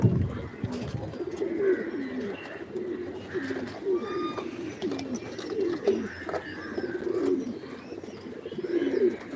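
Pigeons coo repeatedly in low, throaty bursts, fairly close, with a steady background hum and occasional faint chirps.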